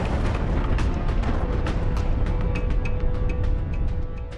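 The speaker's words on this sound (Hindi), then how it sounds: "धमाके की आवाज दिल दहलाने वाली थी" Dense, rumbling blast noise from an explosion at Kabul airport, with crackling bursts and popping debris, loud and continuous throughout.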